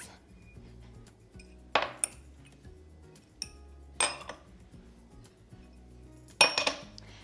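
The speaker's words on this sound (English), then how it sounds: "I'm just gonna give this one quick mix to make sure everything is kind of incorporated and evenly spread out." Flour and spices are mixed in a bowl for schnitzel breading, with a utensil striking the dish in a few sharp, isolated clinks separated by near silence.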